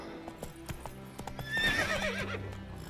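Roach, the horse in the Witcher 3 video game on PlayStation 5, clip-clops along at a steady beat that rises into louder galloping hooves, with a whinny breaking out partway through.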